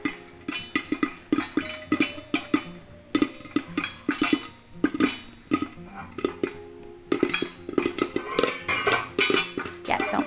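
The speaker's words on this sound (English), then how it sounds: "And you can hear it's really popping good right now." Popcorn popping hard in a pot on the stove for a honey caramel batch, dense irregular pops and rattles bursting near and loud, with clusters and brief lulls and no talking.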